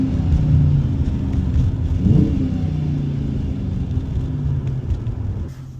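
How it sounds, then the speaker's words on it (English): A Dodge Challenger R/T engine with its stock air filter idles with a deep, close rumble and rises in a couple of mild revs before settling. "let's give it a few revs, see how it sounds"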